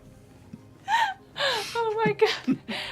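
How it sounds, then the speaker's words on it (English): A person makes a pained gasp in a tabletop roleplay scene, a short sharp intake followed by strained, whimpering vocal sounds, close and clear. "I hold my hand over my eye and just make a pained gasp"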